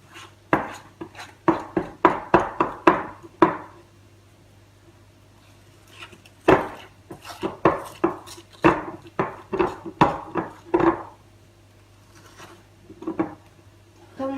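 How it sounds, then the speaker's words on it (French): Savane cake batter is mixed in a bowl with a utensil, giving close bursts of quick clattering knocks and scrapes against the bowl, separated by brief pauses. "puis je mélange"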